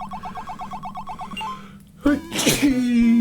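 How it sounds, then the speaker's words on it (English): A single loud sneeze bursts out after a brief pause, following a stretch of repeated electronic tones. "Sneeze."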